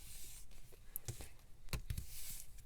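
Paper is creased and folded for a junk journal envelope, giving a few soft rustles and sharp brief crinkles up close, quiet and with no talking.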